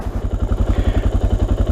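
Suzuki DR650 single-cylinder engine lugging at low speed uphill on a country road, a loud, close, rapid chugging pulse of even low thumps.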